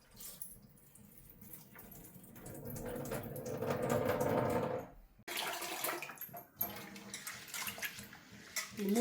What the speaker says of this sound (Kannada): ಈ 3 ಸಲ ಅಕ್ಕಿಯನ್ನು ತೊಳಿಬೇಕು ಅಲ್ಲ?